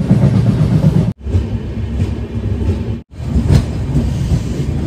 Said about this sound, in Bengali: আমাদের ট্রেন ঢুকছে গোসাইগঞ্জ আর এরপরেই অযোধ্যা